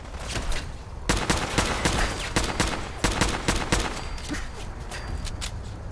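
Machine gun turrets and missiles fire in the video game Fallout 4, a run of sharp repeated bursts and blasts over a busy battle din, loud and close.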